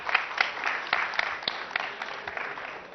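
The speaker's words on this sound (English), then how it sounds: "Okay, give a clap to her." Audience applause for a student at a school exam-discussion event with a governor, a few seconds of scattered clapping with sharp individual claps standing out, moderately loud throughout.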